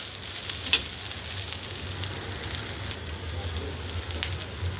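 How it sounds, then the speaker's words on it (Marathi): Paneer roasting in a hot pan with salt and turmeric gives off a steady, close sizzle, with a few sharp crackles breaking through the continuous hiss. "पाहून घ्या कलर कसा चेंज होतो आणि छान असं भाजायला लागलं आपलं पनीर"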